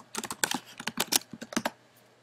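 Quick keystrokes on a computer keyboard enter a password, roughly a dozen crisp clicks in a fast, uneven burst lasting about two seconds, then quiet.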